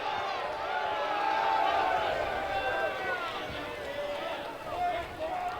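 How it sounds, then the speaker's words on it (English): A college baseball crowd at a Tennessee vs Radford game lets out a sustained, mid-distance roar of disapproval after a batter is hit by a pitch, the murmuring jeers rising and falling under a commentator's voice. "Crowd doesn't like it"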